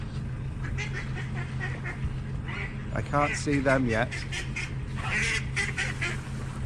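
Ducks and geese squabble on a canal, with a burst of harsh honks and quacks in the middle, amid ongoing nearby talk.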